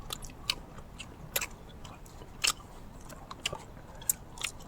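Crisp crunchy biting and chewing of big mouthfuls of food, close and fairly quiet, with repeated sharp crunches at irregular intervals over a soft background hiss.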